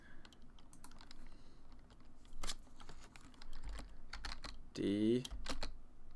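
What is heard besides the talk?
typing on a computer keyboard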